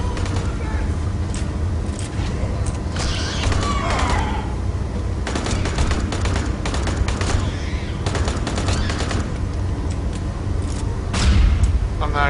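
Assault rifle burst fire in the Aliens Colonial Marines video game comes as repeated short bursts of shots mixed with game effects and explosions, and a voice is heard now and then.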